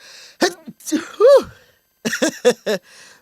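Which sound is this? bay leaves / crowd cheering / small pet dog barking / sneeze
sneeze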